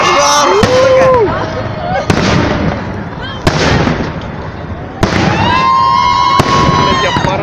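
City day fireworks display in Voronezh, loud booming bursts and crackling explosions repeating every second or two, with people exclaiming and talking excitedly nearby throughout.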